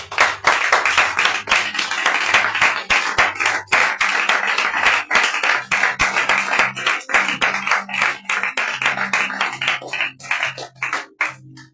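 Congregation applauding during a church revival service for fasting and repentance prayer, dense sustained clapping from many hands filling the room steadily throughout, with no talk over it.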